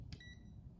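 A steady high-pitched multimeter continuity-test beep sounds for most of the moment, quiet over a low background hum.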